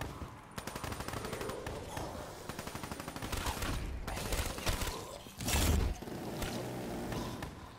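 Rapid automatic gunfire from a gun in Black Ops 3 Zombies sounds as loud, dense, continuous bursts with brief pauses and one heavier blast near the end.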